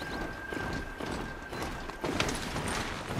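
Video game horse hooves clip-clop in a quick steady rhythm, close and moderately loud, with a brief whinny and no speech.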